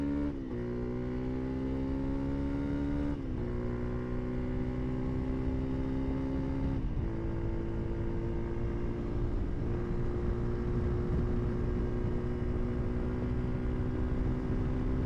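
A Honda CRF300L rally-built motorcycle runs at full throttle, its loud steady engine note climbing through each gear with two clear shift dips along the way.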